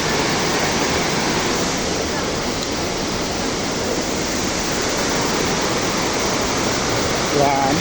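Estrella Falls in Palawan roars in a steady, loud rush of falling water with no break, and a faint voice is barely audible beneath it.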